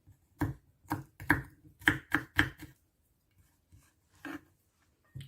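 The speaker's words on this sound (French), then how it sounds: "Voilà, on coupe l'ail." A knife chops garlic on a cutting board in close, crisp knocks, first a quick irregular run of about nine strikes, then a few scattered, softer taps after a pause.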